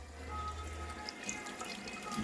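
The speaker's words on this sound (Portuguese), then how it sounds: "debaixo da torneira, para ir lavando" Tap water running over green papaya under a kitchen faucet, a soft steady splashing stream with light drips, fairly quiet and continuous with no speech.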